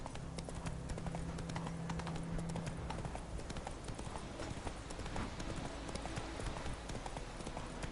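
Roach, the horse from The Witcher 3, gallops with a steady, rapid clip-clop of hooves throughout, backed by a low game ambience and faint background noise.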